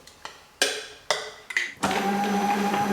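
An electric mixer whips cream at low speed for a strawberry sponge cake, starting with a few short whirring bursts before settling into a steady, close motor hum.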